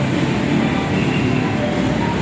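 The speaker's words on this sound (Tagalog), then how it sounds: "malapit na terminal ng LRT sa may monumento." LRT light rail near the Monumento terminal, a loud steady rumble of a train with broad rushing noise, continuous and close.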